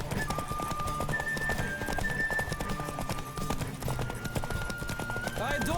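Horse galloping in a race in the game Witcher 3, rapid rhythmic hoofbeats thudding steadily up close, mixed with game music and occasional voices.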